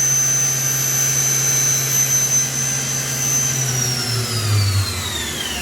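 A 2002 Daewoo DMV-4020 CNC vertical machining center spindle runs at 8,000 RPM, giving a loud, steady high-pitched whine over a low mechanical hum. Toward the end the tone slowly falls.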